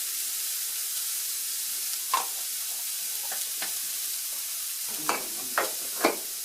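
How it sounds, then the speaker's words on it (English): Turkey browns in oil in a hot cast iron skillet, giving a steady close sizzle broken by a few scraping stirs near the end, with no talk. "I'm going to put it in the pan and let it brown down"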